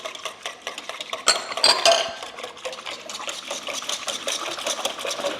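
Wire whisk beating four egg yolks in a pot on a stove set to medium heat, for homemade banana pudding: a steady, rapid scraping clatter of metal against the pan, brightening and growing louder in the middle, with no talking.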